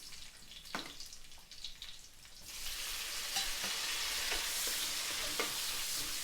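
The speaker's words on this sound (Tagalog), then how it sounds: "Igisa muna natin ang sibuyas, bawang, and siyempre isasabay na natin dyan ang" Onion, garlic and tomato sauté in a hot pan for chicken with pechay and cabbage, a soft crackle that swells into a loud, steady sizzle with a few stirring clicks, no voices.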